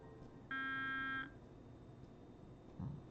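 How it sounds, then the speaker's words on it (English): A desk intercom in the Steins;Gate 0 visual novel game gives one steady electronic beep lasting under a second, clear and close over a soft background hum. "the intercom on the desk beeped"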